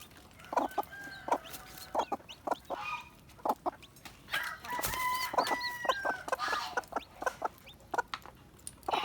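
A native mother hen clucks repeatedly in short, sharp bursts, fairly close, with occasional louder squawks and a rooster-like call mixed into the farmyard scene.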